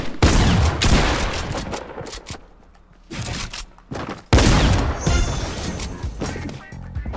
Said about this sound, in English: I missed my shot. I gotta reload.